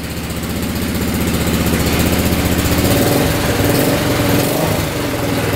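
A cheap ATV engine that had refused to start now runs steadily just after firing up, giving a loud, close, even chugging idle with a slight rise in the middle and no talk.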